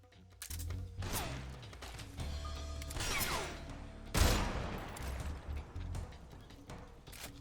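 Sustained video game gunfire in Metal Gear Solid Delta: Snake Eater, with dense, rapid bursts of shots and a heavy boom or crash partway through, loud and continuous throughout.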